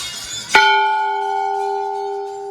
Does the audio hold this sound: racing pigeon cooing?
no